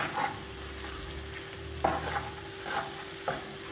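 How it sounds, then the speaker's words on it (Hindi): Onions with salt frying in a pan for a chicken karahi, a soft continuous sizzle broken by a few scraping stirs of the spoon, close and fairly quiet. "और हल्का सा गोल्डन होने तक मैं प्याज को फ्राई करूँगी।"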